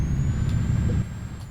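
A heavy truck's handbrake air release in Euro Truck Simulator 2 gives a steady pneumatic hiss over a low engine rumble, close and fairly loud, easing slightly after the first second with no voices.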